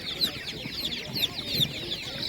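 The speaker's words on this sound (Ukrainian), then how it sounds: "Гарні курочки." Several chickens cluck and chatter nearby in a continuous busy flock at a spring livestock market, with a faint murmur of background noise.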